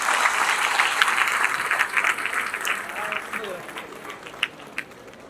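Audience applause filling an auditorium at a live Tamil talk event honouring speaker Gopinath, a dense steady clapping wash that tapers slightly toward the end, with a few sharper claps and faint voices underneath.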